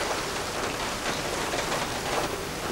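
Steady rain falls outside a basket weaver's workshop, a dense, continuous patter of drops on surfaces that holds an even loudness throughout with no voices.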